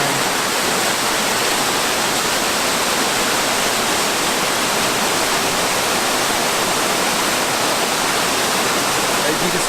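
Waterfall pouring into a pool, a loud, constant broadband rush of falling water that stays steady throughout without any voices.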